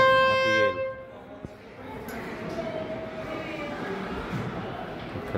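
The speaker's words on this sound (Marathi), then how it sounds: "आता येईल एक ट्रेन चालली आहे," Train moving along near the Saptashrungi hill shrine, a faint distant rumble and rolling rail noise following a brief horn-like tone, with someone talking over it.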